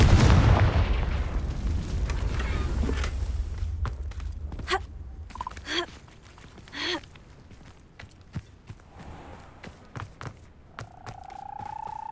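A Confringo fire spell in Hogwarts Legacy bursts with a loud, booming blast at the start, followed by scattered sharp impacts and footstep-like thumps, with a brief whistling tone at the end.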